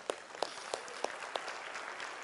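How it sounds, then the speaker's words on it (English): A congregation at a church service gives a hand clap, with several distinct claps standing out at a steady pace over a soft, continuous wash of clapping. "Give the Lord a hand clap for that right now."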